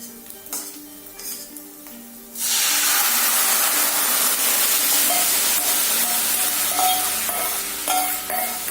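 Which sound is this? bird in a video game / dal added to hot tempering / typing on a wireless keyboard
dal added to hot tempering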